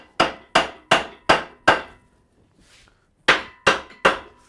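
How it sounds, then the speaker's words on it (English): Sharp metallic blows from a copper-faced hammer on an Austin Tilly truck engine cylinder head, five in quick even succession, a pause, then three more, each strike loud and close with a short ringing decay. "making sure that I'm using a copper faced hammer rather than a cast hammer"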